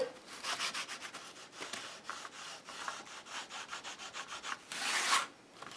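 Sandpaper rubbed by hand over a small craft heart with a distressed eggshell finish, a quick run of close, scratchy back-and-forth strokes ending in one longer, brighter scrape, with no talking.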